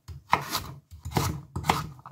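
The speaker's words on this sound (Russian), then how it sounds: "Морковь нарезаю грубо." A knife coarsely chops carrots for vegetables in sweet-and-sour sauce, three close, rough chopping bursts on a board, each a short scraping cut with pauses between, no talk.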